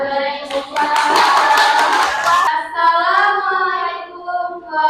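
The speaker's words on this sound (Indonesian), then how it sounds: "Ya, tepuk tangan." A group claps their hands for about two seconds during a class presentation. The claps are set against sustained, tonal voices that carry on after the clapping fades.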